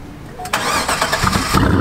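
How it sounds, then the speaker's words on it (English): A Corvette engine cranking on a long start after sitting for a few hours, a short whirring crank that catches into a rough, rising engine note, close and loud. "a long start after the car's been sitting for a few hours like this"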